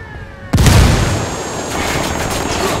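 A grenade explodes in Ghost Recon Wildlands: one sudden loud blast near the start, followed by a long rumbling, crackling decay over steady background noise.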